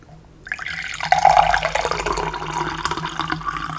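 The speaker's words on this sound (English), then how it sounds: "Here, I'm going to pour this out." Apple spice tea is poured close up in a quiet room, a steady liquid splash that begins after a moment of silence and runs until the end.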